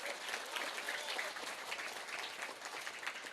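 Dense audience applause at a Javanese-language community gathering, steady broadband clapping held at a moderate level for the whole stretch, with no voices breaking through.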